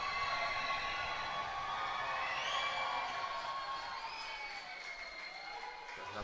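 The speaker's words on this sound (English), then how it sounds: "the crowd will try and put him off" A basketball crowd at a Plymouth Raiders versus Leeds Force game tries to put off a free throw shooter, a steady roar of voices, whistles and whoops sustained throughout, with no clear pause.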